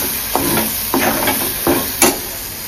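Ground masala paste fries in oil with a constant sizzle, broken by four distinct scraping strokes of stirring, close and fairly loud.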